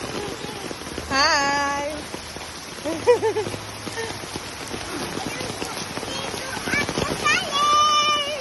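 Steady rain falls outdoors in Manila while children play nearby, a soft continuous wash under frequent close talk and children's voices, with a brief motor-like hum passing in the background.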